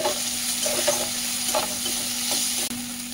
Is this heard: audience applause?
no